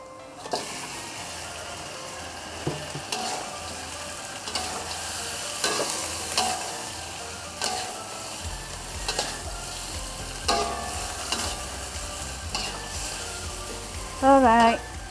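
Prawns sizzling in a hot pan for a seafood curry, a steady frying hiss with repeated scraping stirs and clanks of the utensil, close, with a louder clatter near the end.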